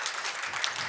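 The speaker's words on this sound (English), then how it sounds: "So please, let's give Donna and Robin a round of applause." A brief burst of audience clapping at a nursing summit, dense and even for under a second.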